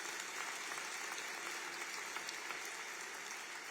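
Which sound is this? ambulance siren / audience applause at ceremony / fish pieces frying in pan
audience applause at ceremony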